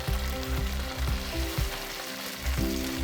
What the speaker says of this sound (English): So that sizzling is what we want.